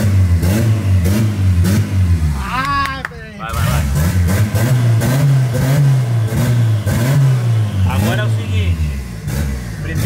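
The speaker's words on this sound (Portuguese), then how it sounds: "acelera aí pra gente ver o barulho dele" Car engine revving hard nearby, rising and falling in repeated throttle bursts with a loud, rough roar, briefly dipping before climbing again, while people talk and shout over it.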